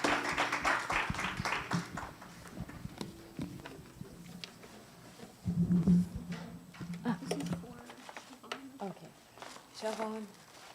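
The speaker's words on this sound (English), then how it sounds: "we just want to give our panelists a round of applause and thank them for their efforts" Audience applause for panelists at the 35th Annual Lupus Symposium: a brief burst of clapping near the start, then people talking over a room murmur, with a few scattered taps.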